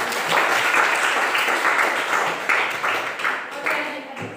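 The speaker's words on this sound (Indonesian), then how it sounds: "Mari kita berikan tepuk tangan." Applause in a junior high school classroom in Indonesia after a prayer, a group of students clapping steadily and fairly loud throughout, with a teacher's voice briefly heard over it.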